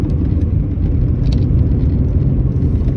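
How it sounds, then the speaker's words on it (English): A Rover 75 with a 2-litre engine drives along a twisty road, giving a steady, loud low engine rumble and road roar that holds evenly throughout, with no talk. "It's a very good soundtrack on this Rover 75"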